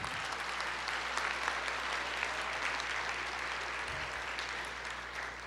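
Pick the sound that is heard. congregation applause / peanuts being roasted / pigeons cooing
congregation applause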